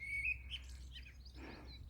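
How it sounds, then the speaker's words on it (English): Outdoors in an overcast Cornish valley, a high thin bird chirps a few times against a low, steady rumble, then a soft broadband rustle follows; no one speaks. "Can hear the bird song."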